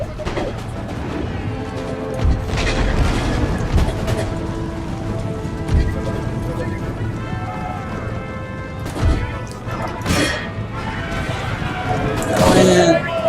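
Canister shot from cannons fires during a Battle of Princeton fight between the USA and Great Britain in Empire: Total War. Several sharp booms cut through a constant rumble of battle noise while a person talks.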